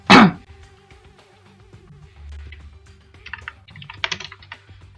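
Typing on a computer keyboard, with scattered soft key clicks and a short burst of faster taps near the end, preceded by a brief loud thump, quiet and close.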